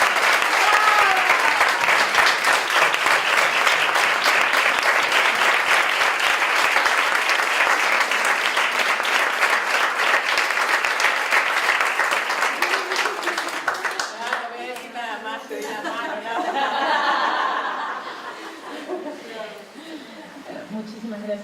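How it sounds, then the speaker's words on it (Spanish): Audience breaks into sustained, loud applause at a formal event, a dense clatter of many hands lasting a long stretch before thinning out toward the end, with some voices rising over the fading claps. "Un aplauso maravilloso."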